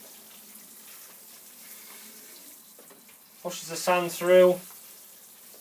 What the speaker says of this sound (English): I take a watering can and just give it, the carrot box, a good watering through